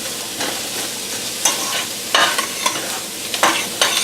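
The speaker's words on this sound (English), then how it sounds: "So we're going to saute this and get that going a little bit." Onions sizzle and fry in a pan for vegetarian chili, a steady close hiss broken by scraping stirs of a spoon at irregular intervals.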